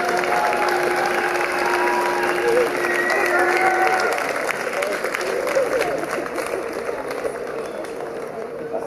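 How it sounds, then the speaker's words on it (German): Applause from referees and spectators at a knight tournament, continuous clapping mixed with crowd noise that stays fairly loud before slowly thinning toward the end. "Ein großer Applaus von den Schiedsrichtern"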